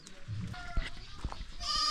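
A goat in Ghana lets out a short bleat near the end, close by, after some light handling noises and faint background sounds.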